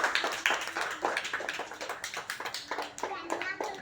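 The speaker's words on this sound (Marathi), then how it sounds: "टाळ्या वाजवा सगळ्यांनी यांच्यासाठी" A group of children claps together in a school setting, producing a steady run of quick, close hand claps while young voices talk over them.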